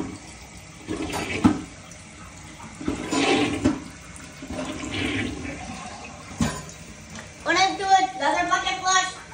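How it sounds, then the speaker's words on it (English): A toilet flushed by pouring a bucket of water into the bowl, a rushing gush with gurgling, broken up by louder bursts of splashing and draining, while a person talks in between. "Of doing a bucket flush."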